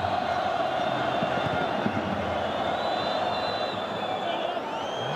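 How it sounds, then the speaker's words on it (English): A football stadium crowd at an international playoff match between Jordan and Uruguay roars in a dense, continuous wash of noise that stays loud and steady, with occasional whistles and shouts rising above it. "And the crowd continues to get louder and louder."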